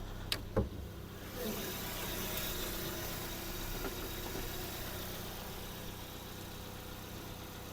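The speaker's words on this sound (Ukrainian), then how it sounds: "Двигун працює чітко" A Hyundai Tucson 2.0 engine idles with a steady low hum, preceded by a couple of faint clicks at the start; no one speaks.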